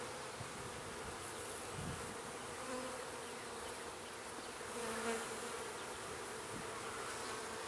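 Honey bees buzz around an opened hive frame, a faint, steady hum with passing individual bees swelling briefly louder close by.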